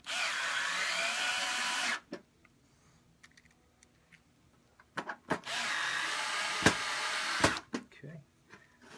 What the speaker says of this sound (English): make sure you have a battery screwdriver